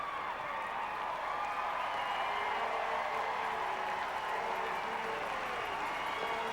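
Arena crowd at a 2004 Scott Tournament of Hearts curling draw between Canada and Saskatchewan, cheering and applauding steadily for Saskatchewan; a dense, continuous wash of noise that fills the whole stretch.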